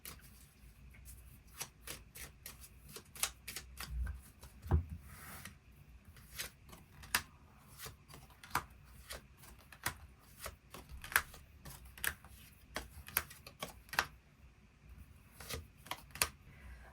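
Tarot cards are shuffled and drawn by hand in a quiet room, giving soft papery riffles and sharp card snaps scattered irregularly throughout, with no talking.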